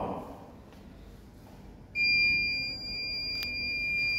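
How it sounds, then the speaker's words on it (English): A transport baby incubator sounds its AC power fail alarm: after a quiet start, a loud, steady electronic tone switches on partway through and keeps going, with a brief sharp click near the end. "That's why it has given AC power fail alarm."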